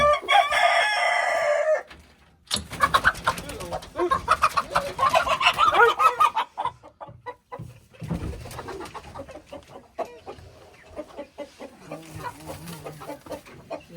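Hens cluck and squawk in quick bursts close by, with a rooster crowing among them; the flock's chatter rises and falls, thinning toward the end.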